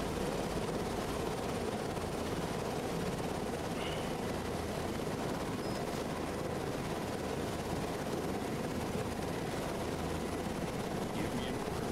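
A helicopter in the video game Cepheus Protocol, a constant broadband rotor and engine drone that holds at an even level throughout with no change in distance.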